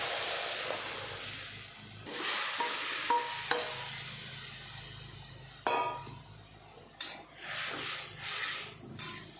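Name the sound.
curry poured into hot oil with cumin, mustard and chillies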